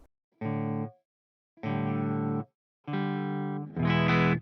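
Three sustained electric guitar chords through an Orange Super Crush 100 amp's clean channel with a touch of reverb, each ringing about a second, then a brighter fourth chord.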